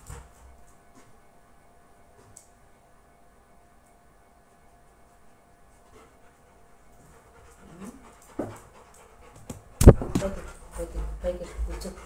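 A pet dog panting and letting out small whimpers indoors, mostly quiet at first, then louder bursts of breathing and whining over the last few seconds.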